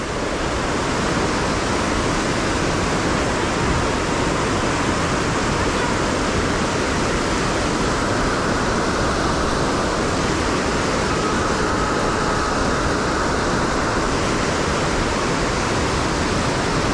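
Fast-flowing river water at Naran roars continuously at close range, a dense, steady rushing wash that fills the whole stretch without pause, with a voice faintly audible at times beneath it.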